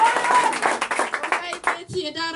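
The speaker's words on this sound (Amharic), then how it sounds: "አጨብጭቡ ለጌታ ክብር ስጡ" A church congregation claps together in quick, rhythmic bursts during a worship service, loud and near, before a voice briefly takes over at the end.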